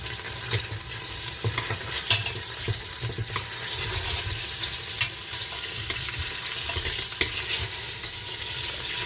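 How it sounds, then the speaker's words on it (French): Meat turned over in a pan keeps grilling with a steady close sizzle, punctuated by sharp periodic spatula taps and scrapes and no speech. "Je retourne ma viande et je la laisse griller aussi."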